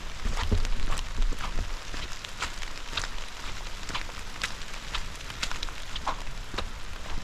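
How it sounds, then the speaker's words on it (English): Heavy rain pouring down at a camp in the Ozarks during a thunderstorm, a dense, loud, steady patter with scattered sharper drops striking nearby surfaces, no voices. "I'm out here and it's pouring down rain."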